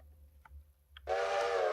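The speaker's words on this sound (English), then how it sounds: "Not that you'd really let the whistle off in the shed like that." A steam locomotive whistle in the video game Railroader, heard inside an engine shed, cuts in abruptly after a quiet low rumble and a couple of faint clanks, then blows loud and steady to the end.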